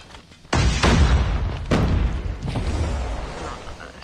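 Grenades burst in Call of Duty Mobile ranked search-and-destroy play, giving two loud booming blasts about a second apart. A dense rumble of game noise keeps going after each one.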